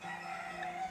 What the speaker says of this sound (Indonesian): Ini ayam di belakang gua